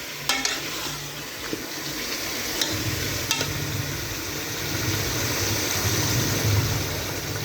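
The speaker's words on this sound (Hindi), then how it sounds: "अब इसमें हम गोश्त को अच्छी तरह से तकरीबन 5 मिनट के लिए फ्राई करेंगे" Beef sizzles in a pot for dagi korma, a low, soft frying hiss with occasional scraping stirs and clinks.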